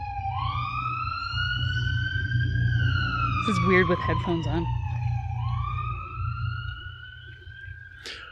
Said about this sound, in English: Let's pause for the siren as they pass.